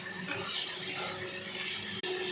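A spoon scrapes and stirs through raw mango chutney as turmeric is mixed in, a steady, close rustling of wet fruit in a pan with one sharp click near the end.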